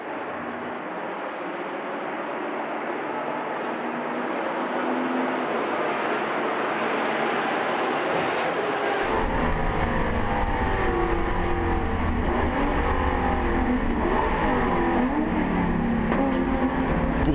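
Touring cars from 1966 to 1984, among them BMW 3.0 CSL, 635 CSi and Ford Capri RS, race on the Montjuïc circuit in Barcelona, their engines roaring past. A loud, close pass swells in the second half.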